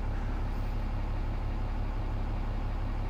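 A Cummins 6.7 L diesel in a RAM 2500 pickup idling during a coolant change, a steady dense low rumble that stays even and close throughout, with no talk.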